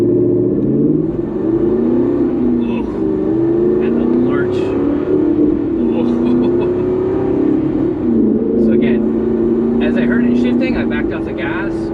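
Aston Martin Vantage accelerating with its SportShift II automated manual gearbox, the engine pitch climbing and then dipping at each jerky shift, heard from inside the cabin with someone talking over it.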